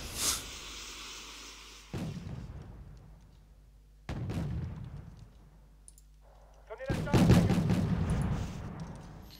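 Gunfire in the video game Wargame Red Dragon, separate bursts of crackling shots and rumbling impacts at irregular intervals, the last burst louder and busier, with a voice speaking over parts of it.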